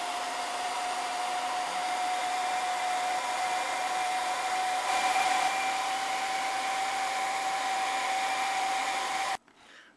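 A heat gun runs steadily, sealing heat shrink tubing over a small circuit board for a 1/10 scale RC emergency light bar; a constant close blowing whir with a faint tonal whine, cutting off abruptly at the very end.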